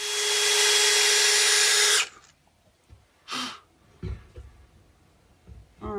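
Power drill boring a hole for a bolt, one loud continuous whine for about two seconds that stops abruptly, followed by a brief short burst and quiet handling thuds and breaths.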